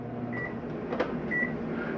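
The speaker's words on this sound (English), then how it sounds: "We got a self-explanatory microwave." Microwave oven running inside a 2002 Sunnybrook 28RKFS travel trailer, a steady low hum with faint tonal whine throughout, plus a brief click near the middle.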